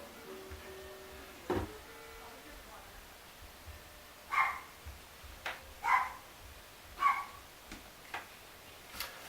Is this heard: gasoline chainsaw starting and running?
no